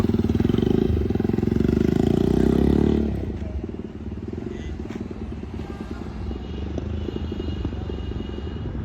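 A motorcycle engine runs close by with a loud, rough, rumbling idle. It settles after a few seconds into a steady, lower putter that carries on to the end. No voices are heard.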